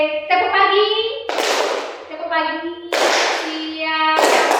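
Children in a classroom group guidance session play a clapping game: chanted, sung voices alternate with three loud bursts of group handclapping, close and lively.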